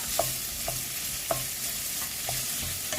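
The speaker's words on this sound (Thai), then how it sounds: "เราก็ใส่หมูไปก่อนเลย" Minced pork stir-fried in a hot pan for pad kra pao with garlic and chilies, a steady sizzle broken by several sharp spatula scrapes and taps against the pan, close and fairly loud, with no speech.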